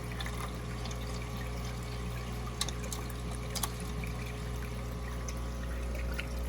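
Gentle, continuous trickle of water squeezed out of an oven baster into a cup while cleaning an aquarium, soft and steady with faint drips, over a low background hum.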